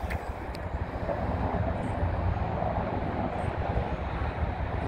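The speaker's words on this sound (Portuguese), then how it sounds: "tá passando ali ao fundo ali três helicópteros" Three US Air Force helicopters pass in the background near the Marine Corps War Memorial, a steady low rumbling drone that fills the whole stretch at a constant level, distant rather than close, with no talk.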